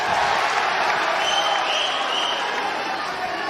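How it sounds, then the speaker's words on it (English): A boxing crowd roaring and applauding at a fight, a loud sustained wash of cheers and clapping that fills the whole stretch and slowly eases slightly. "Well, a big cheer goes up every time Morley connects with a good punch."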